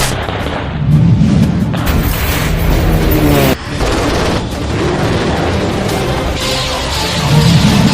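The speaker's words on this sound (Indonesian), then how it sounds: "Diterima, kami akan membalas tembakan." Military combat sounds of gunfire and explosions as special forces commandos return fire: loud, dense booms and bursts of shots running continuously with heavy low rumble, a brief drop midway, then more blasts.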